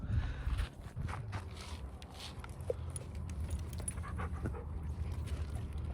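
A dog panting in an RV in the desert, a steady breathy rhythm close by over a low rumbling background, with a brief clink midway.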